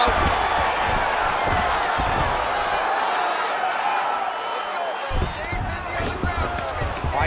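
Crowd noise roars steadily in a PS5 UFC video game during a ground fight between Choi Doo-ho and Elliott, a dense continuous cheer that swells slightly, with talk over it.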